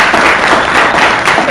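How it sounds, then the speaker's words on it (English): An audience applauds performers at a beginner stunt and fight choreography session: a steady, dense wash of many hands clapping that holds at an even, fairly loud level for the whole moment. "Give them a hand, you guys."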